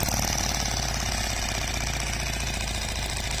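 A compressed air engine idling on a dyno, running at about 7400 rpm and 12 psi, gives a loud, fast, even buzzing chatter that holds steady with no pauses or talk.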